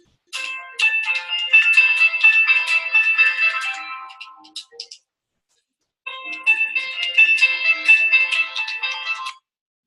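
A mobile phone ringtone goes off during a university law lecture, a bright melodic tune playing loud and close in two rounds separated by a short silence.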